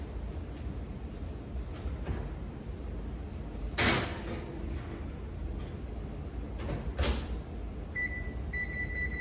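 Oven door thumps shut near the four-second mark with a second clunk about three seconds later as strawberry shortcake and apple pie donuts go into a home oven, over a steady kitchen hum with a brief electronic beep near the end.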